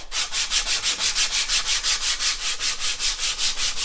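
Sandpaper of 60 grit scrapes back and forth by hand along a Spanish cedar guitar neck, a close, loud, rough rasp in an even rhythm of about four strokes per second.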